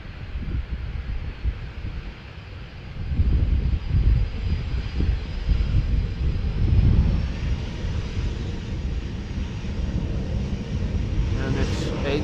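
A Boeing 777 jet taking off from runway 09 at Amsterdam Schiphol Airport, a distant steady engine roar that swells in the middle and holds, with wind buffeting the microphone and a voice talking over it.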